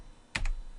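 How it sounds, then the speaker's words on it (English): A single quick pair of computer keyboard keystrokes, close and fairly crisp, with no talking. "Let's type in"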